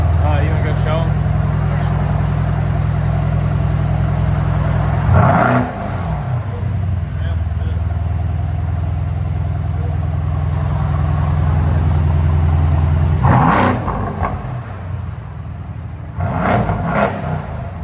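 A 2022 Mercedes GLC 63 AMG with a 4.0L bi-turbo V8 and muffler delete idles with a loud, deep exhaust drone, broken by three sharp revs at close range.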